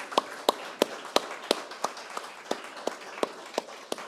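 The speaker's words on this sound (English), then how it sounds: "let's give them a round of applause." Scattered hands clap at the NYC Greenways Summit 2024, sharp evenly spaced claps about three per second, with a faint room murmur in between.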